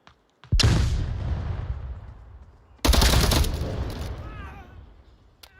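Gunfire in the VR shooter game Onward: two loud, close bursts of rapid shots, each starting sharply and trailing off into a long echoing decay, with no talking.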